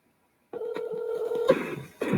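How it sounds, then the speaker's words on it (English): A telephone dials out to place a call, a single sustained electronic tone followed by a burst of further tones and line noise, all fairly loud. "get the phone ringing here"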